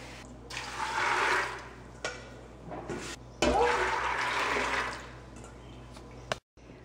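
Water runs from a kitchen tap into a serving dish while cooking lunch, two hissing bursts of flow separated by pauses, close and moderately loud.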